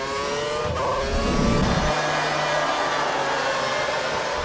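Race cars accelerating hard on a track at the Hungary round, a steady loud engine roar with a rising pitch that shifts as the cars pass, no voices over it.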